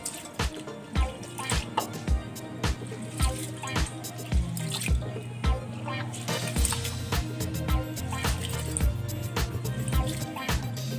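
Rinse water drains from washed rice in a kitchen, with a trickle and scattered drips close by over a faint background hum.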